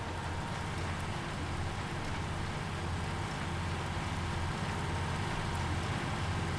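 Steady broadband rain hiss from Farming Simulator 19, a dense continuous patter with a low rumble underneath, even and unbroken throughout with no voices.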